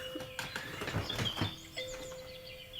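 Birds chirp and tweet through a played recording, a few bright close calls in quick succession with a faint steady tone beneath.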